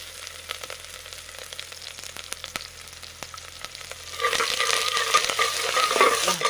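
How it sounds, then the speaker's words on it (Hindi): Onion and whole spices fry in a pan on a portable camping stove, a faint steady sizzle with light stirring scrapes that swells into a louder, crackling hiss partway through; no talking. "ये प्याज है और ये खड़े मसाले हैं, तो ये डाल रहा मैं इसमें। इसको मैं 5 मिनट के लिए भूनूंगा थोड़ा सा"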